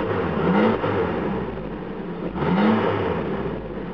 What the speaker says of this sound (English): Roll down the window for a second and give you guys a good rev.